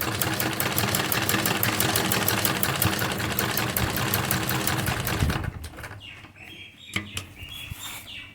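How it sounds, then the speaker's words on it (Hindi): A sewing machine runs fast, stitching a simple seam along a salwar hem in a rapid, even mechanical rattle for about five seconds. Then it stops and is followed by quieter handling and rustling of the fabric. "इसी शेप में हम एक सिंपल सिलाई लगाएंगे"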